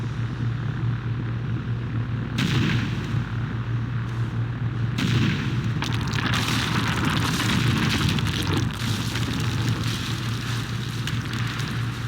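Heavy artillery fire and explosions roar in a Warcraft 3: The Frozen Throne battle scene, a continuous loud rumble with booming blasts and a low steady drone beneath, no voices.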